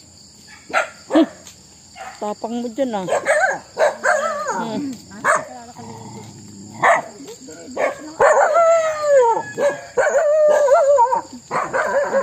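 Dogs on a farm bark repeatedly and break into drawn-out howls, loud and close, while a person speaks briefly among them.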